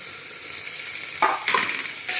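Onion, potato and pumpkin frying in a pan make a quiet, steady sizzle with soft stirring scrapes and a few louder bursts as pieces go in; no one speaks.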